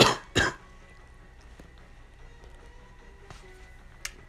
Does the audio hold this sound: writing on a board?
no